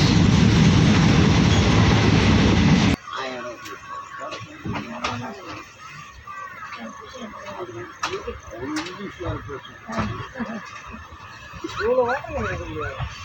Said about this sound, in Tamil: முன்னாடியே வந்துட்டு இருக்குது நெல்லை சூப்பர் ஃபாஸ்ட் எக்ஸ்பிரஸ்